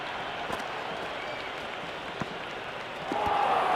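A stadium crowd in the Cricket 26 video game fills the background with a steady clapping roar that swells louder near the end.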